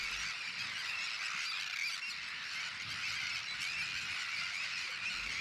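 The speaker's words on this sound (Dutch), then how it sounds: "En deze kolonie van grote sterns die alleen in grote groepen broeden." A breeding colony of Sandwich terns in the Wadden Sea area keeps up a dense, unbroken chorus of harsh, grating calls, many birds calling at once, loud and close without any voices.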